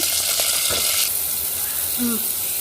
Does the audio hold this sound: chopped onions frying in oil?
yes